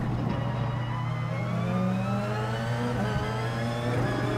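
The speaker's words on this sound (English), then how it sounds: "So I'm short shifting a little bit." Race car engine in Gran Turismo Sport, revving steadily with pitch climbing then dropping at early upshifts, a continuous loud drone with no voices.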